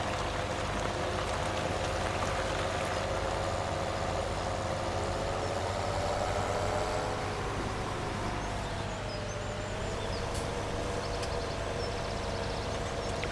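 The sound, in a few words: tractor engine straining under heavy trailer in Farming Simulator 17 video game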